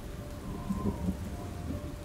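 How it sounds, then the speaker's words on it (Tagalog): Heavy rain falls steadily in the countryside while low thunder rolls faintly underneath, a dense continuous hiss with soft rumbles and no voices. "hindi po talaga humihina ang ulan"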